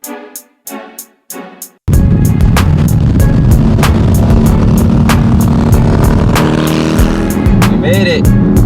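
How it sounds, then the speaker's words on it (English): An SUV launches at full throttle in a drag race, a loud sustained roaring engine surge right after a few brief bursts of speech, the roar building steadily and staying close. "keep the steering wheel straight, and you floor the gas"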